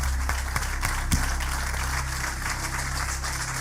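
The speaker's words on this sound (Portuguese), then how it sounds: "Você pode aplaudir ao Senhor se você acredita que tem um novo ciclo te esperando?" A church congregation applauds at an anniversary service, a sustained patter of clapping with a few sharper individual claps near the start, over a low steady hum.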